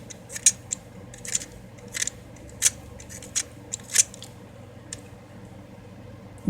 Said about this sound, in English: pencil sharpening 101